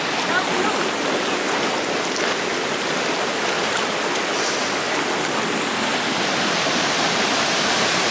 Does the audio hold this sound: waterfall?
yes